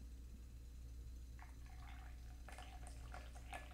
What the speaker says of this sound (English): the reason why I'm pouring from a little bit higher above is to aerate and cool off the brew a little bit